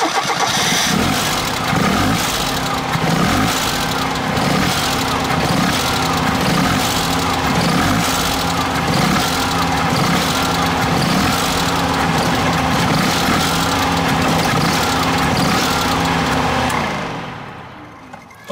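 A car engine fitted with a CNG gas kit runs at a steady idle during kit repair and adjustment. It is loud and close with an even, rhythmic chug, then cuts off and fades near the end.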